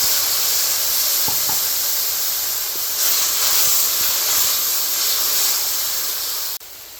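A paste of ground ginger, garlic, green chili and tomato goes into a hot pan for a vegetarian spiny gourd dish, giving a loud, steady hiss that runs almost unbroken before cutting off abruptly near the end.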